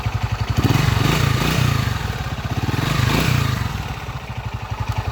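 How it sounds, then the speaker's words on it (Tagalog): A mechanic's engine from Tayog, Pangasinan runs loud and steady with a rapid chugging pulse that swells and eases, rough clattering mixed into the beat. "Para marinig ng madla ang andar ng makina ni boss."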